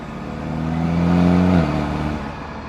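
A BMW 428i with the N20 engine, still cold, revving up from idle to a rising, strained peak over about a second and a half and then dropping back, heard close and fairly loud with no talk.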